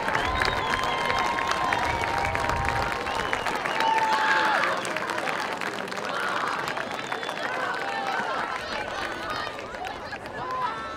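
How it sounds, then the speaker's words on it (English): A large stadium crowd at a high school varsity football game applauds and cheers in a broad, steady wash of noise that slowly fades, with a few voices calling out over it. "Let's give a round of applause for all that these men do for our city"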